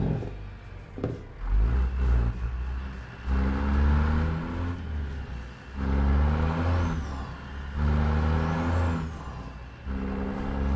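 Truck engine in the American Truck Simulator video game, droning and rising in pitch as it shifts through gears, with steady whirring between changes and no talking.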